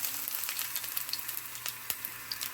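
Garlic sizzling in hot cooking oil at the start of sautéing for a mung bean stew with dried anchovies, a steady close crackle with small pops and stirring scrapes, no talking.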